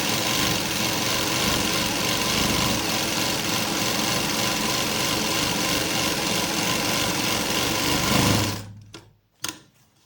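A sewing machine stitches a wavy seam on a straight salwar, running in a steady loud whir for about eight seconds before stopping, followed by a couple of brief clicks and then quiet.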